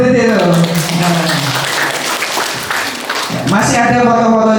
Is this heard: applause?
yes